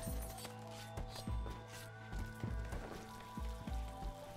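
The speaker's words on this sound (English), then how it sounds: "It's still raining, but it's now morning time." Soft rain patters steadily in the video game Rimworld, with scattered drops and light clinks, faint and continuous with no voices.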